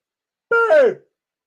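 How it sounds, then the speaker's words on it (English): A single short bark, close and clear, standing alone against silence. "Sorry, Rocky's barking now"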